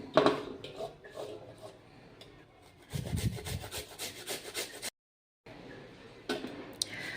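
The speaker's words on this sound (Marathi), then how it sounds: "आता गाजर किसून घेते" A carrot is grated by hand on a grater, close rhythmic rasping strokes in short bursts with a brief silent gap, fairly quiet and without talk.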